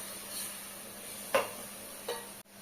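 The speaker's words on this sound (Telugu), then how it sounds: "ఇప్పుడు ఒకసారి కలుపుకుంటున్నా" Biryani ingredients are stirred in a large cooking pot, two quick scraping strokes of the spoon standing out over a faint steady sizzle, quiet and close.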